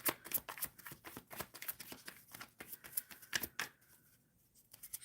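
Tarot cards are shuffled by hand, a quick run of crisp riffling flutters and taps, close and fairly quiet, easing off near the end.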